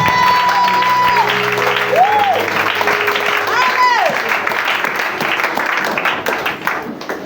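A church congregation applauds and cheers at a French-language service, the sustained clapping carrying on under a voice with some tonal sounds layered over the first half, then thinning slightly toward the end.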